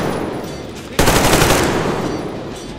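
Sniper gunfire in the Metro Exodus video game: one loud, sharp shot cracks out over a dense, steady background din and trails off into a long rumbling tail.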